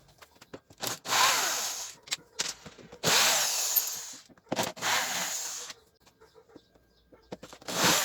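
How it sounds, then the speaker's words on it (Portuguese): A power drill backs out the rear cover screws of an Attack CM 1515, several loud whirring bursts separated by short pauses, with faint bird calls in the quiet gaps. "Eu coloquei aqui na minha furadeira e vou retirar essa tampa traseira."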